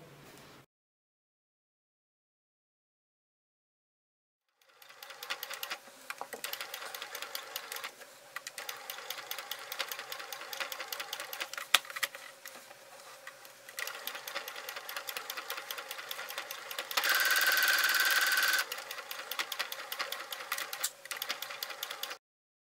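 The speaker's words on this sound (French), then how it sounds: "je vais la coudre comme ça à l'intérieur, voilà, à 5 mm du bord environ" A sewing machine stitches lace inside a small multi-pocket fabric pouch about 5 mm from the edge, a steady close rapid whirr that starts after a few seconds of silence and runs on with a brief louder burst near the end.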